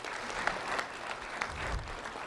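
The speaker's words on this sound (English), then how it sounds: "a round of applause for Haven and Allison, please" An audience at a Lee County Sheriff's Office recognition ceremony gives a round of applause, a soft, steady, somewhat distant patter of clapping that fills the brief moment without talk.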